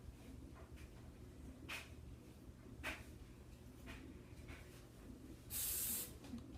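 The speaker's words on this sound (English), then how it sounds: "And use some hairspray." Hairspray is sprayed onto an up-do on short hair in one short hissing burst near the end, faint against a quiet room with a few soft handling noises.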